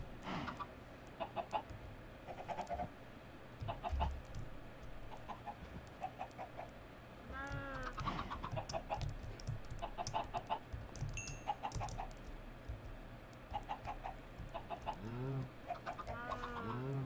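Blocky game chickens cluck in short repeated bursts in a Minecraft Forgecraft modpack, several birds scattered near and far, faint and intermittent over a soft background.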